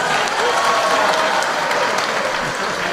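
Steady, dense clapping from a large audience at an Islamic religious gathering led by a preacher, a continuous even roar of many hands with no clear pauses.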